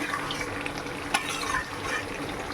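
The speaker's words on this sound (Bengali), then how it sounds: "মাংস প্রায় কষা কষা হয়ে গেছে" Meat being sautéed and stirred in a pan for biryani, a steady close sizzle with scraping stir strokes throughout and one brief clatter near the middle, no talking.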